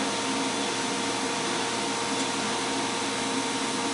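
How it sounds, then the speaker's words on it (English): A vacuum runs steadily on a car's distributor, a constant loud whooshing drone with no change in pitch or breaks throughout, no voices. "We'll have the vacuum for the distributor."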